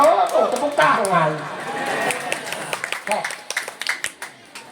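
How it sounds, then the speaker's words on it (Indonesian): Scattered audience clapping at a religious lecture gathering, starting after a voice and continuing as uneven, separate claps that thin out toward the end. "Wah, sudah tuh tepuk tangan."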